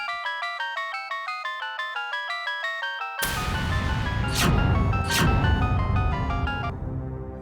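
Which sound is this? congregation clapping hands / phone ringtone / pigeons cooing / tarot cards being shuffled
phone ringtone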